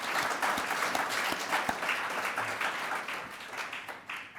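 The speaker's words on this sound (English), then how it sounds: "If we'd give all of the sponsors a round of applause" A symposium audience applauds the event's sponsors, a dense, steady round of clapping from a crowd that fades slightly toward the end.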